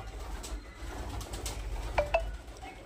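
Young highflyer pigeons coo softly nearby, low murmuring calls over a faint background hum, with a couple of brief higher chirps near the end.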